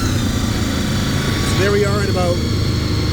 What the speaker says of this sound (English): now I'm gonna start the bike